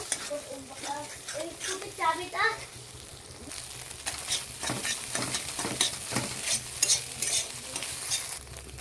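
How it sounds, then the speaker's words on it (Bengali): An egg is stirred and fried in a kadai for homemade chowmein, giving a steady sizzle with scraping stirs, while a voice and an adult talk over it at first. "ডিমটা কড়াইয়ে দিয়ে দিলাম, দিয়ে ডিমটাকে নেড়ে নেড়ে নেড়ে নেড়ে গুঁড়ো গুঁড়ো করে ভেঙে নেব"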